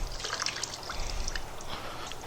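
Water drips and trickles from a soaked grout sponge being wrung out by hand over a bucket, a short close splashy patter lasting a couple of seconds.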